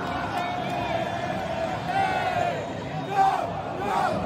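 Galo (Atlético Mineiro) supporters in a big stadium crowd chanting striker Diego Tardelli's name, a dense, steady roar with sung tones rising through it and a swell near the end.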